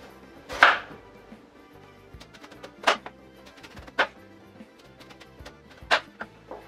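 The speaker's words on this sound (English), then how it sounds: "let's cut into thin slices about 1/4 inch each lengthwise" A knife slices an eggplant lengthwise into thin slices about a quarter inch thick on a cutting board. Four distinct, fairly loud chops land at irregular intervals, with faint scraping between them and no talk.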